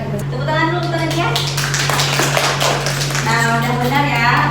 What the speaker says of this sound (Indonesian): Tepuk tangan dulu untuk Nadia.